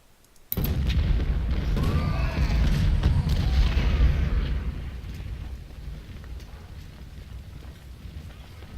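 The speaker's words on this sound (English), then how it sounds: "we've got artillery somewhere" Artillery fire in the Civil War video game Ultimate General: Civil War opens with a sudden loud boom, then a rolling, rumbling roar of distant cannon that slowly fades to a lower background rumble.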